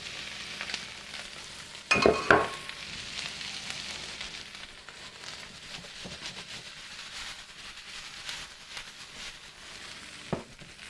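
Potatoes for a steak hash fry in a pan with a steady crackling sizzle, broken by a louder clatter of stirring near the start and a sharp knock later; no one speaks.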